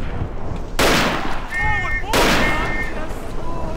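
A grenade blast amid battlefield gunfire in the World War I shooter Verdun, two loud broadband bursts with crackling shots between them, close and dense.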